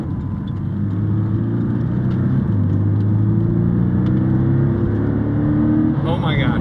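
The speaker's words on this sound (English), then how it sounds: "so it absolutely comes on with the sport exhaust button" Inside a Porsche with the sport exhaust button on, the Sound Symposer pipes a loud, sustained engine drone into the cabin, its pitch rising steadily in stages as the car accelerates, with a brief sharper burst near the end.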